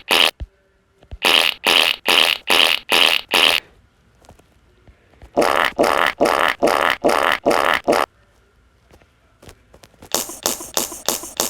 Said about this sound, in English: Farts.